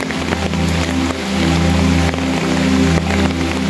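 Steady rain falls in Chandpur, Bangladesh, a dense continuous wash of drops on surfaces near bamboo and coconut trees, loud and unbroken throughout with a low rumble underneath and no voices.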